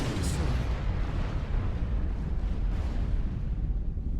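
A massive explosion rips through a battle in the real-time strategy game Supreme Commander 2. The loud, deep blast starts with a sharp burst, then rolls into a sustained roaring rumble that stays heavy for several seconds.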